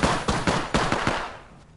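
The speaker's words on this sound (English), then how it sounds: "Opening fire on the enemy." Rapid automatic gunfire in the video game Apex Legends, several sharp bursts in quick succession over about a second, loud and close, then trailing off into a fading echo.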